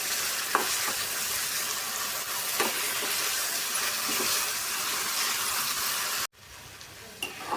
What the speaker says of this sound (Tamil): ஆப்பிள் வந்து கொஞ்சம் ரோஸ்ட் ஆகுற அளவுக்கு ஃப்ரை பண்ணிக்கோங்க